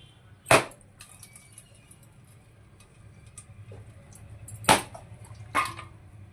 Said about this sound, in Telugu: ఫస్ట్ ఈ కొబ్బరికాయలు అనేది పగలగొట్టుకుందాం మనం